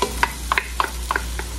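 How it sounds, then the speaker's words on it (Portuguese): Onion and garlic sauté in oil in a pan, with a soft continuous sizzle broken by several sharp scraping stirs of a utensil against the pan, close and clear with no talking. "bora começar a refogar aqui a nossa cebola com o nosso alho"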